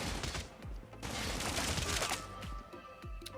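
Rapid hip-fired automatic gunfire in Call of Duty Mobile, a dense burst of shots with sharp cracks across several seconds, close and steady over game noise.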